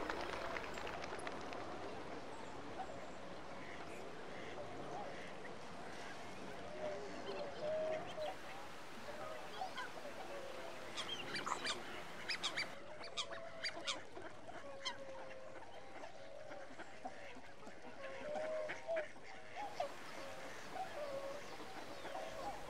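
Tufted ducks, red-crested pochards, ferruginous ducks and coots call faintly across Gajoldoba wetland near Siliguri, with scattered distant honks and quacks over a soft outdoor background.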